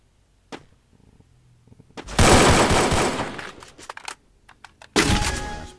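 Close, loud bursts of AK rifle fire from the Free Fire battle royale game, a faint shot early on, then a long rapid volley and a second dense burst near the end, with no talking.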